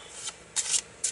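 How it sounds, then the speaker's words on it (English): A deck of playing cards is shuffled in a few quick riffling bursts, close and fairly soft, with no talk. "shuffle my cards a little bit"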